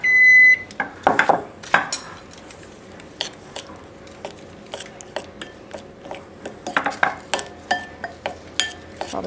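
Peanut butter bar mixture being stirred in a dish, with repeated scraping clinks of a utensil against the bowl at an uneven pace, plus a few soft kitchen beeps.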